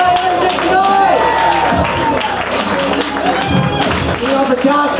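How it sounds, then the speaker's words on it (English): A comedy club audience cheers and claps loudly for a comedian taking the stage, sustained applause mixed with whoops, with a voice talking over the crowd noise. "big round of applause for the hilarious and funny Tommy McNamara. Everybody, let's make some noise!"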